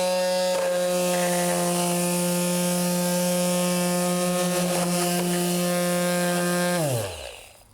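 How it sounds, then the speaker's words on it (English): A mouse-style detail sander buzzes steadily against wood, a loud continuous motor drone with a steady pitch that holds for about seven seconds before winding down to a stop. "I want to show you another sander that I think is great. It's called the mouse"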